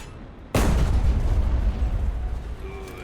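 A single booming cannon shot from a Jagdtiger tank firing at a battleship in a video game, a sharp loud blast followed by a long rumbling decay.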